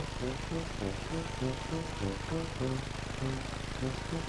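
Helicopter flying in the hunting game theHunter: Call of the Wild, a steady rotor and engine drone with rhythmic pulsing held throughout at moderate level, with no pause.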